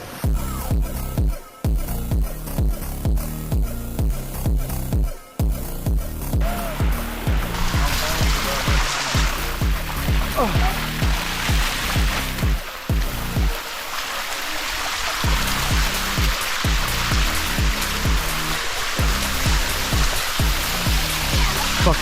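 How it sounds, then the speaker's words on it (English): Water pouring down a waterfall in Chiang Mai, Thailand, a loud steady close rush filling the whole clip, with faint voices speaking underneath. "We should climb up the waterfall."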